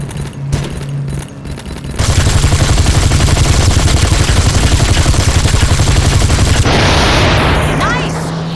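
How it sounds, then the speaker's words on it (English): Sustained rapid gunfire from a mobile shooting game, Gangstar Vegas 4, loud and dense for several seconds during a car chase, with speech around it and a brief sharper burst near the start. "take this gun and shoot at the assholes behind us while I drive!"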